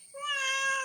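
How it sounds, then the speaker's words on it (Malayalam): A single clear cat meow, drawn out and fairly close, rising then holding for under a second in a quiet garden home setting. "ഇത് നമ്മുടെ പൂച്ചക്കുട്ടികളാണ് കേട്ടോ."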